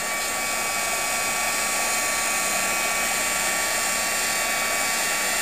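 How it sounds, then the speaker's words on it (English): A heat gun or hair blow dryer running continuously at close range, a loud steady whooshing roar with a high-pitched motor whine, unchanging from start to finish. "With a heat gun or a hair blow dryer, whichever you have handy."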